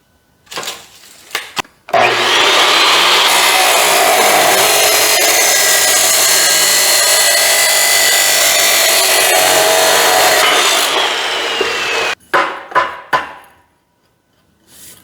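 A power saw cuts through metal pieces, likely bungs or tubing being trimmed to length for welding on a 1940 coupe, a loud steady whine lasting about ten seconds after a few brief clanks, then stopping abruptly with some handling knocks.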